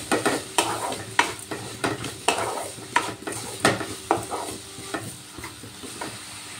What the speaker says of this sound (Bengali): এবার নুন চিনিটা ভালো করে মিশিয়ে নেব।